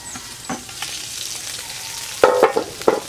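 Pork for Bisaya humba frying in a pan outdoors and being stirred, a steady close sizzle with several sharper scraping stir clatters near the end.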